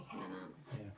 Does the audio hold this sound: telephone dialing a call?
no